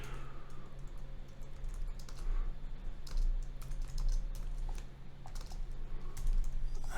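Steady keyboard typing on a computer during a WordPress and MySQL server setup, with a continuous run of key clicks over a low hum and no speech.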